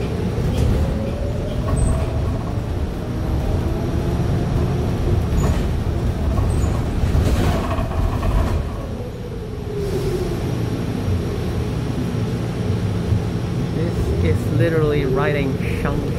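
Interior ride on San Francisco Muni bus 5834 running route 1, a steady loud engine and road drone throughout with rattles and a brief dip midway, plus faint chirps near the end.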